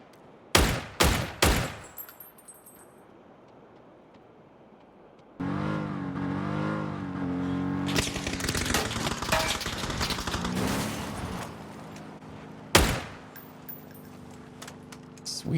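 Dragunov DMR gunfire in PUBG on the Miramar map: a handful of sharp, loud rifle shots spaced close together, then a long stretch of vehicle engine roar and revving, with one more shot near the end.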